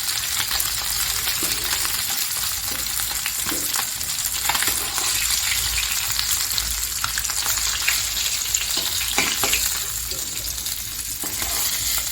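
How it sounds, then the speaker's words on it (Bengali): Pieces of rohu fish fry in a pan in hot oil, giving a loud, steady sizzle with scattered crackles and pops throughout, close up and without any talking. "মাছটা আমার লাল লাল করে ভালো করে ভাজা হয়ে গেছে"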